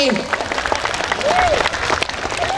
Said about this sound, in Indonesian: Tepuk tangan dulu tuh Pak Bupati nak yang mimbar